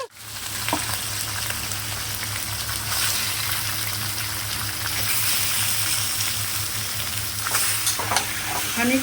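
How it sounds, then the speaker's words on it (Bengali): Chicken pieces go into hot mustard oil in a wok for kadai chicken, setting off a loud, continuous close sizzle with occasional clatter from stirring and a brief sharp burst near the end. "কড়াইতে তেল দিয়ে দিয়েছি তেলটা গরমও হয়ে গেছে এইবার চিকেনটা দিয়ে দিচ্ছি"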